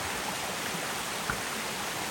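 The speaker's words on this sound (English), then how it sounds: "you can see the water coming all the way down from up there" Water cascades down the Hardcore Cascades on the Appalachian Trail, a steady, broad rushing roar from the falls with no voices over it.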